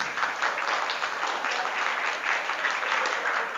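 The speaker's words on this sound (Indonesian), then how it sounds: "Tepuk tangan dulu." A crowd of high school students at an Isra' Mi'raj sermon in a school hall applaud, a dense, even clapping that holds steady throughout at moderate loudness.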